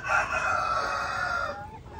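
A Rhode Island Red rooster crows once, close and clear, a single drawn-out call lasting about a second and a half before it fades.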